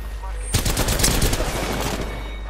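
Rapid automatic gunfire bursts out loud and close in the battle royale shooter Apex Legends, a dense volley of shots lasting about two seconds after a brief quiet moment.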